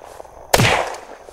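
A single sharp gunshot in the survival game Unturned during a player-versus-player fight, one close, loud crack that decays quickly over faint background noise.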